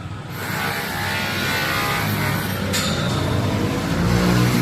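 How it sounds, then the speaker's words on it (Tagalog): Steady vehicle traffic rumble on a rough road, a continuous loud engine and road drone with a brief higher whoosh midway, no talking. "Tsaka puro anong maririnig dito eh. Ingay ng sasakyan."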